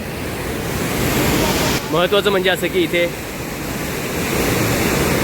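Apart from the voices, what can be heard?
flooded Godavari river rushing under a bridge, Nashik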